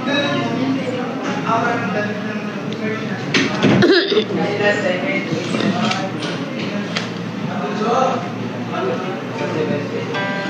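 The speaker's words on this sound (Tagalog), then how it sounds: "Naiinis na ako sa sa ubo ko" A woman coughs repeatedly while talking continuously during a live online selling session, the coughs breaking through her speech at close range.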